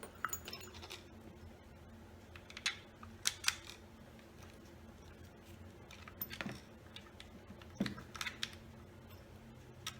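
Small metal screw being driven into the trigger frame of a Tacamo pump paintball marker, a few faint scattered clicks and light metallic taps at close range over a quiet room hum.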